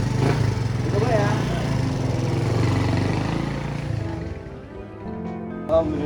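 A new motorcycle's engine runs steadily at close range, a low buzzing drone that eases slightly toward the end, with a brief knock near the finish.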